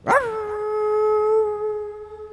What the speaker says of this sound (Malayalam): ആ ഇരുളിനെ ഭേദിച്ച് എങ്ങു നിന്നോ ഒരു കാലൻ പട്ടി ഓരിയിടുന്നു